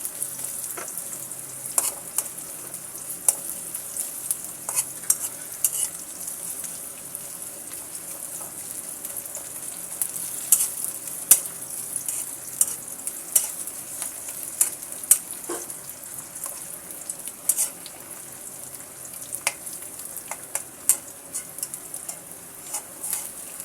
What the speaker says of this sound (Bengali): আমি পেঁয়াজ এবং রসুনটাকে ব্রাউন কালার করে ভেজে নেব।